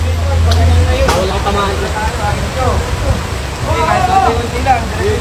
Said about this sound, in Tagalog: Nabutan na ng ulan.